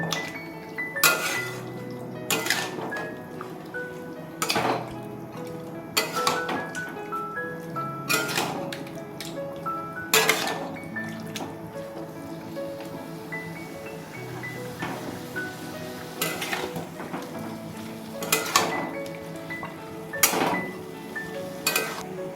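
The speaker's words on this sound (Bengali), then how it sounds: "একটু ভালো করে কষিয়ে নেব" Chicken bukhara masala being sautéed in a pan, heard as repeated sharp metal clinks and scrapes of a utensil against the pan over a steady low cooking hum, with no voices.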